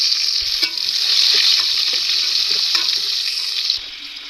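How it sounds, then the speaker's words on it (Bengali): Potatoes sizzle loudly in hot mustard oil, a dense, steady frying hiss with occasional soft pops and spatters that eases slightly near the end; no voices. "তেলটা গরম হয়ে গেছে, এর মধ্যে দিয়ে দেবো আলু।"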